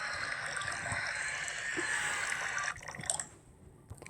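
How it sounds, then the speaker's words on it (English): Water is added to a smoothie in the Toca Kitchen 2 video game, giving a bright, steady pouring trickle that runs for a few seconds and then gives way to faint scattered drips. "Now add some water in this."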